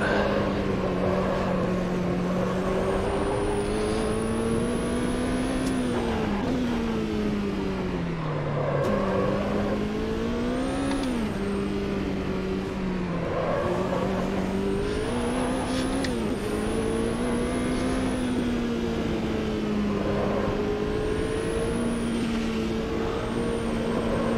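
Race car engine in the Automobilista 2 sim racing game, revving continuously at high pitch with rising and falling throttle and gear shifts, loud and steady throughout, no talking.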